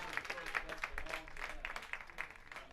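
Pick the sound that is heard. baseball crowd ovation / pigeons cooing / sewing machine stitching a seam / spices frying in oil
baseball crowd ovation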